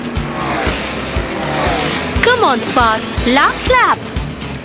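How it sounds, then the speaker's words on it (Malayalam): Cartoon race cars roar off the starting line, engines revving and sweeping upward in pitch with tire squeals, loud and close, while a narrator talks over them. "റേസ് സ്റ്റാർട്ടായി ദാ എല്ലാരും പുറപ്പെട്ടു കഴിഞ്ഞു"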